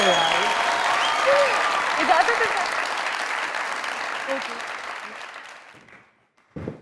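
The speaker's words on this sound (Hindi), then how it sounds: "तालियां मारना है" A studio audience at a comedy talk show breaks into sustained, loud applause that gradually thins and fades to silence, with a brief spoken question near the end.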